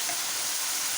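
Onion paste frying in a hot pan for stuffed capsicum, giving a steady, close, broadband sizzle that holds evenly for about a second, with no talking.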